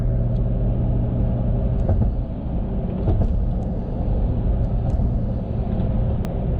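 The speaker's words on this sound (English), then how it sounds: "we're going over the Quebec Bridge" A car crossing the Quebec Bridge over the St. Lawrence produces a steady low road rumble and engine drone heard from inside the cabin, constant and fairly loud, with no talking.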